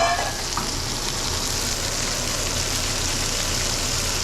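Cabbage fries in a one-pot braise with bacon and potatoes, a loud and steady sizzle that never lets up, with a few faint clinks early on.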